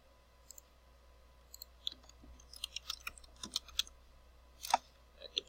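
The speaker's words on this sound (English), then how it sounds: "I'm going to click over here" A computer mouse clicking at a desk, a scatter of sharp, close, quiet clicks coming in irregular bursts over a faint background hum.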